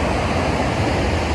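Fast-flowing river water near a waterfall, a dense, steady broadband rush that fills the whole short stretch at close range with no voices.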